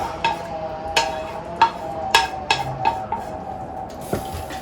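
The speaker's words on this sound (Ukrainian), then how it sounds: "Все це перемішую." Fried vegetable dressing being stirred into cabbage soup in a pot, giving a series of sharp, irregular clinks and scrapes of a spoon against the pot, with about eight distinct knocks spaced over a few seconds and no talking.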